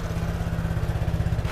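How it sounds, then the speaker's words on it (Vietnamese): A Vespa S scooter engine running close by with a fast, even, throbbing putter that holds steady and loud throughout, with no voices. "Nè, nổ máy cho anh em nghe thử luôn, Vespa S máy thì thầm mùi sưng luôn"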